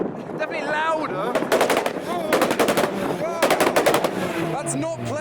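A Honda Civic's exhaust pops and crackles in loud rapid bursts at a crowded JDM car meet, with several rattling volleys close by and voices in the background.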